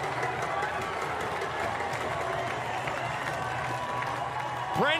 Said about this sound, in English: Brent Fleck just sent this crowd into a frenzy.